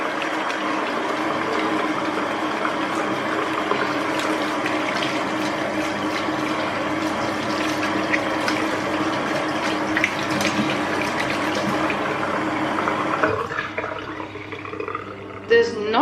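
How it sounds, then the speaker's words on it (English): A tap runs steadily while hands lather a homemade soap bar made without palm or coconut oil; the water flows continuously and near, then quiets and shifts toward the end. "a little bit more water and we've actually got some bubbles."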